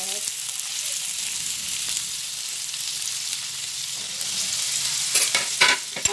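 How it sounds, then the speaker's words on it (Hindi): Onions frying in hot oil sizzle steadily and close up, then a burst of scraping and clinking stir strokes swells near the end. "ऑनियन को हमको ज्यादा फ्राई नहीं करना है"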